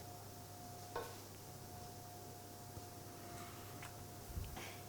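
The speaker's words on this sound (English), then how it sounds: "we're going to stir that all together, combine it" Beef stock and barbecue sauce being stirred together in a pan, a soft steady scraping with faint liquid swishing, quiet and close, with a couple of light clinks of the utensil against the pan.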